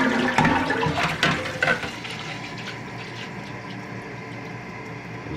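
Water pours into a cooking pot at a campsite for macaroni and cheese, a steady rushing stream that sounds heavier and more splashy at first, then settles into an even, quieter flow.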